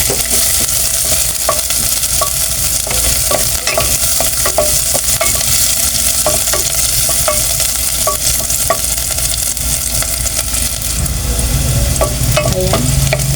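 Onion, garlic and ginger sizzle steadily in a hot pan while being stirred, a loud continuous frying hiss with scattered spatula scrapes and clicks throughout, no voices.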